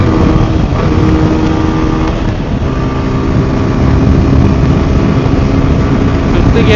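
A TVS Apache RTR 160 4V motorcycle runs at high speed in fifth gear, its engine drone buried in a continuous loud roar of wind rushing past the rider.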